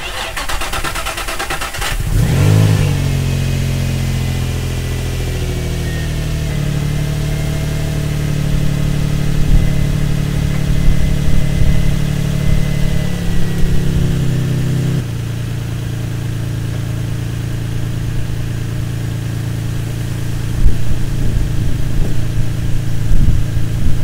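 Car with a faulty camshaft sensor cranks briefly, catches and starts, then settles into a steady idle with a slight rise in revs partway through, heard close up and alone.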